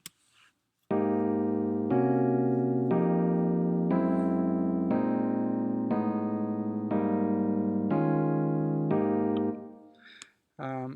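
Polychord voicings for a musical mode, including a 7 minor 7 Lydian chord, sounded as about eight sustained block chords in an even sequence, each held roughly a second, fairly loud and close, with no talking over them.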